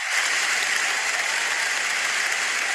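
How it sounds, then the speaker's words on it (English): A studio audience applauds Merms on a comedy talk show, a dense, steady wash of clapping that stays loud and even from start to finish with no voices over it. "Round of applause for Merms."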